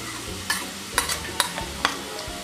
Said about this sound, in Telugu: నెయ్యి అంతా కరిగాక జీడిపప్పు కిస్మిస్ని ఇలా వేయించుకుని